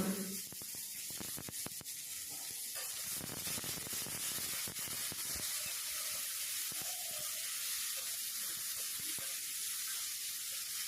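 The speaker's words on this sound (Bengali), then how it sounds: "এবার নুন এবং হলুদ দিয়ে এবার উচ্ছে এবং আলুকে খুব ভালো করে ভেজে নিতে হবে" Sliced bitter gourd and potato with salt and turmeric fry in a pan, with a steady close sizzle and scattered clicks and scrapes from stirring, and no voices.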